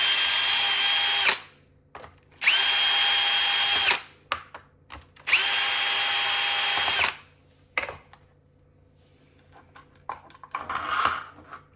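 Power drill removing screws from a GE Opal 2.0 nugget ice maker during a teardown, three loud close whirring bursts of a few seconds each with brief pauses, followed by quieter handling clatter.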